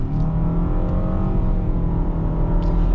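2023 Mitsubishi Outlander SEL with a CVT pulls hard under full throttle, its engine holding a loud, steady droning pitch that barely rises, heard close from inside the cabin.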